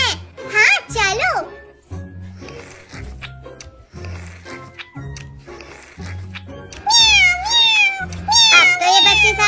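Kittens meow in high, wavering cries, a burst at the start and a longer run of repeated meows toward the end, mixed with childlike voices talking in between.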